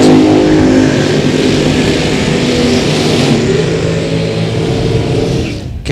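A supercharged dragster runs at a drag strip, its engine a loud, sustained roar that fills the whole stretch before it quickly fades out at the end.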